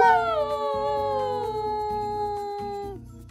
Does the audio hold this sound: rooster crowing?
no